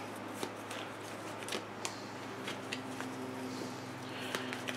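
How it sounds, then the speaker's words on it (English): Cards shuffled for a card reading, a soft, steady riffling with faint ticks over a constant low hum, close but quiet. "All right, let's pull these cards."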